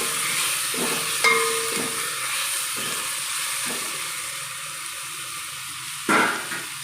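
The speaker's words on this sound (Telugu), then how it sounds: "ఇప్పుడు నేను టమాటా యాడ్ చేస్తున్నాను" Tomatoes hit frying bottle gourd in a hot pan, giving a steady, fairly loud sizzle with a few sharp clacks and scrapes of a spatula stirring, close up and free of speech.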